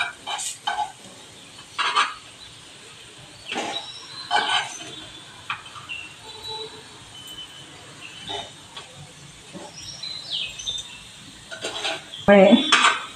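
Mixed dal appe being turned and shifted around a metal appe pan over a low flame, with scattered clinks and scrapes of a utensil against the pan coming in short bursts, sharpest near the end.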